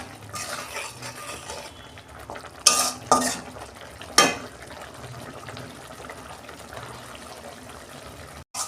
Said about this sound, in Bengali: আলুগুলো দিয়েছি, 2 মিনিট আমি নাড়াচাড়া করব।